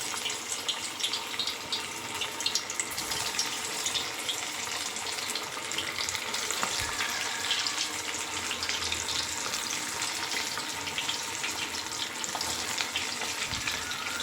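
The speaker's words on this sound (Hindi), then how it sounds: "तेल भी चढ़ा दी हूँ, तो जल्दी से फ्राई कर लेती हूँ" Sabudana vada, tapioca pearl fritters, frying in hot oil: a steady, close, even sizzle and crackle that runs unbroken throughout, with no voices.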